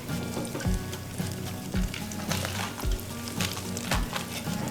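Eight arancini rice balls bubble away in a crowded basket of hot deep-frying oil, giving a steady close sizzle with soft thuds and clinks against the basket.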